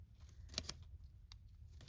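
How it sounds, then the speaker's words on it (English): Scissors snip paper through a hole in a handmade deconstructed journal: two close, quick cuts, then a single fainter snip, quiet and isolated against a low background hum. "Sometimes you have to put your scissors through the hole and give it a little snip in the hole"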